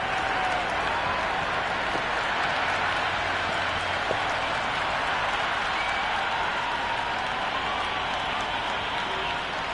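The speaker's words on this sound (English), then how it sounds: "The crowd are really getting quite raucous." Large cricket crowd at a T20 World Cup final at Kensington Oval, Barbados, roaring and applauding in a continuous dense wash of cheering that stays loud throughout.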